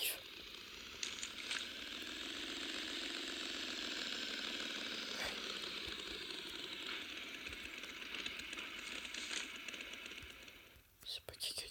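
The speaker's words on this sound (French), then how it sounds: "Il y a une moto." A motorcycle engine in the battle royale game Rules of Survival drones steadily and draws nearer, a continuous mid-pitched hum that holds for about ten seconds before dropping away, with soft whispery voices over it.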